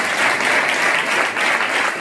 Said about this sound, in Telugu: ఖచ్చితంగా దేవుడు నాతో మాట్లాడే వాళ్ళు గట్టి చప్పట్లు కొట్టండి ఒకసారి